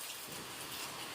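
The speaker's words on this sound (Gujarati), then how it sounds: "તમે જોઈ શકો છો વરસાદ ચાલુ થઈ ગયો" Steady rain pours down in a village, a continuous broadband hiss of drops hitting surfaces with no pauses, fairly loud and close, and no voices.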